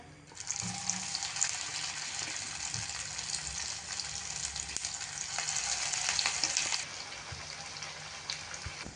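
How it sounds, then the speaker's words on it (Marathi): Oats and vegetable cutlets shallow frying in oil in a pan give a steady, close sizzle that crackles and pops continuously for the whole stretch, with no talking. "याच पद्धतीने पुढचेही कटलेट आपण शॅलो फ्राय करून घेऊया"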